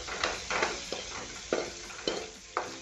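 Masala for paneer bhurji cooking in a kadhai, heard as rhythmic stirring scrapes roughly every half second over a low sizzle, close and moderately loud, with no speech.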